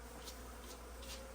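Honeybees from a large, disturbed hive during a live bee removal in Ewa Beach, buzzing as a steady, agitated drone that fills the whole moment, fairly close and with no talk over it.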